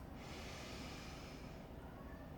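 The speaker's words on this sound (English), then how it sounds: "One more deep breath." A long, steady, airy breath during a yoga session, close to the microphone, with a noisy rushing quality that fades slightly toward the end.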